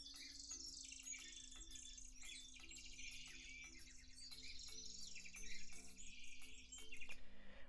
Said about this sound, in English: Then we have some tropical birds.